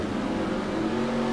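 Drag race cars in a bracket race final at the West Coast Bracket Races Southwest Showdown roar at full throttle, a loud, dense, continuous engine blare with no voices.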